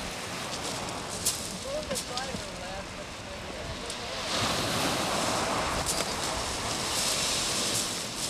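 Ocean surf washes steadily at a Hawaiian canoe launch: a constant broadband roar of breaking waves that swells louder about halfway through and stays up.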